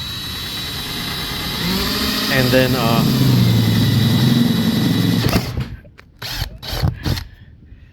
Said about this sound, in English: I'm going to drill like a gazillion holes around this.